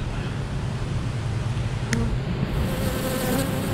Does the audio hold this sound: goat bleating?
no